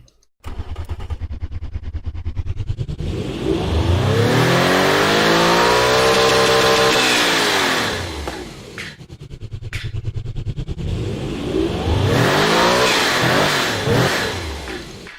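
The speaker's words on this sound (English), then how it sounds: "I'll show you a rev of the engine because it should sound pretty good." A 4475 hp V16 car engine in the game Automation revs hard and repeatedly, climbing to a loud sustained scream before dropping back and revving up again, with no talking.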